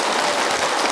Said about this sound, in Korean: 박수 한번 나와야 되는 거 아닙니까?